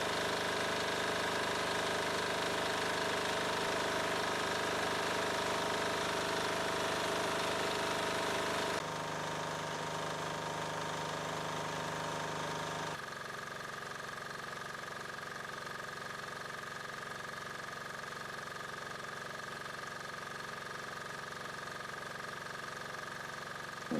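A generator engine converted to run on frying and vegetable oil idles with a steady, dense mechanical drone that shifts twice in tone and load and continues unbroken and fairly loud throughout.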